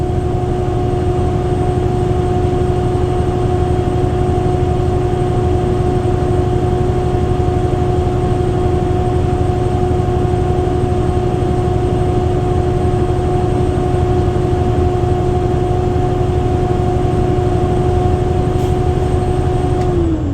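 A truck engine idles steadily on its own, a constant low drone with a fixed hum while the air brake compressor builds pressure until the governor cuts in near the end.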